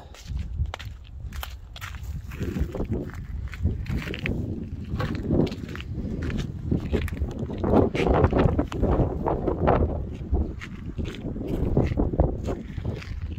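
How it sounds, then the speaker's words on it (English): Steady wind buffets the microphone in rumbling gusts in a Mojave Desert food forest, with footsteps or rustling movement throughout and no clear voices. "It's pretty windy today, so try to bear with me with that."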